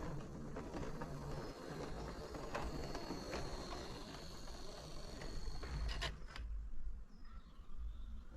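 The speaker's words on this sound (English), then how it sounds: "And after attaching onto its train, the C-Class could depart for the lower level." A model railway C-Class steam locomotive pulls away with its train, a faint, low rumble of running wheels and mechanism with scattered clicks, quiet and continuous.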